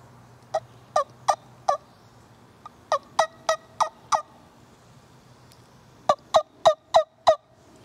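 A wingbone turkey call produces soft yelps in three short runs of four or five notes each, with pauses between the runs.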